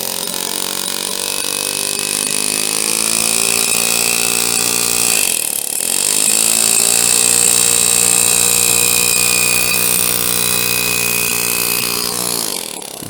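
A flat graver cuts a scroll pattern into a metal overlay on a concho, giving a steady, close, continuous whirring buzz with a brief dip partway through, alone with no talk.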